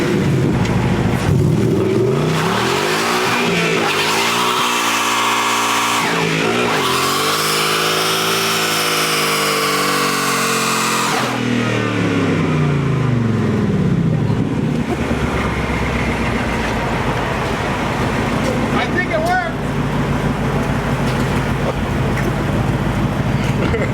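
Hellboy, an off-road wrecker, revving hard on line lock, a loud roaring engine that climbs and falls in long sweeps with heavy low rumble, close up and continuous for the whole stretch, with voices talking over it.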